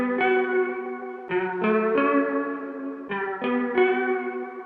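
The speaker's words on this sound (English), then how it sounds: "Then the next thing was I added my short reverb" A music sample of sustained synth chord stabs rings with a short reverb tail, the chords changing in a loose rhythm and each note blooming and fading briefly, with no voices.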